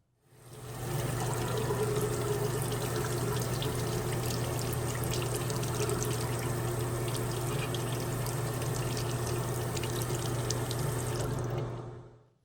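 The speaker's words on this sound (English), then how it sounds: "see if it runs when we put the water on top of it" Tap water from a sink runs onto a printed vinyl sticker as a steady, close stream that pours and splashes without pause for about eleven seconds before cutting off.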